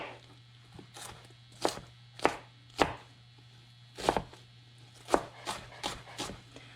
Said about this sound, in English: this onion is almost longer than my knife, so I do need to like put it over like this for the last few cuts